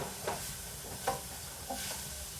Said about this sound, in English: So I will stir that all together now.